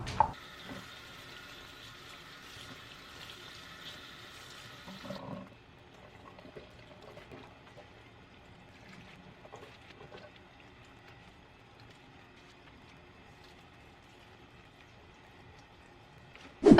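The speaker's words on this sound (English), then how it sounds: "I'm just going to rinse these off and leave it on my strainer" Steady running water rinsing collard greens in a kitchen sink, a louder tap stream for a few seconds then a softer trickle and light splashing, faint and close.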